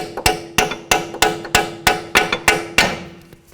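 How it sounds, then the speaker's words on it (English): A hammer repeatedly strikes a chisel to separate the front lower control arm on a 2007-12 Dodge Caliber, about ten sharp metallic blows in a steady rhythm, close and loud, ending with lighter taps. "I'll use my hammer to bonk this in."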